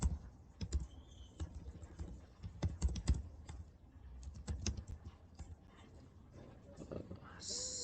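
Keyboard keys clatter in quick irregular bursts while entries are keyed into Tally accounting software, close and fairly quiet, with a voice talking over the typing.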